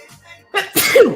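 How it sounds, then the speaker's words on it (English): A single loud sneeze bursts out after a quieter stretch of low murmuring, with a sharp breathy intake rising into a bright explosive release near the end of an online auction stream. "Finally, the sneeze."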